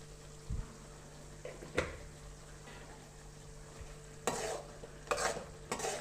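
Tamarind pulp simmers with sesame powder in a pan and is stirred now and then, with soft scraping strokes over a quiet, faint bubbling.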